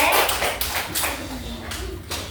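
Children in a classroom clap their hands in a loose, uneven patter of claps, moderately near, with voices heard faintly underneath.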